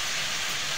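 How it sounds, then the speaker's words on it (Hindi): Chicken frying in a pan over high heat, giving a steady, loud broadband hiss that holds evenly from start to finish with no voices over it. "चिकन को मैं भून रही हूँ, फ्राई कर रही हूँ, तो इसे तेज आँच में ही भूननी है"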